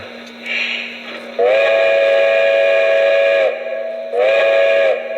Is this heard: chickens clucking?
no